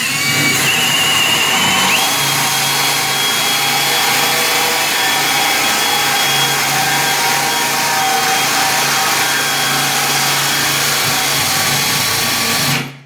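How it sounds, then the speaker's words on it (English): A power drill whines steadily and loudly for several seconds as it bores a lock hole through a wooden door, the tone constant before cutting off abruptly at the stop. "I'm going to set this one here at 60 and we'll drill the first hole"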